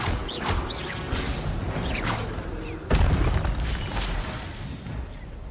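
Expelliarmus spell cast in Hogwarts Legacy, with whooshing magic bursts and a sharp booming impact midway, followed by rushing debris-like noise, all under an excited player's speech.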